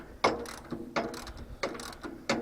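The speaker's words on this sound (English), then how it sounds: "Go ahead and take this bolt out." A ratchet works a bolt loose on a Farmall Cub tractor, making close, quiet bursts of rapid clicking in an uneven rhythm of about five strokes.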